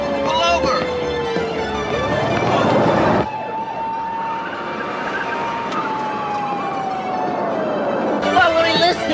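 A police car siren wailing loudly and close, its tone sliding in long rising and falling sweeps over the hum of a moving car.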